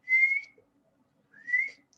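Two rising whistles from a person imitating the wheezing breath of asthma, each about half a second long with a long pause between them, clear and close with no talk over them.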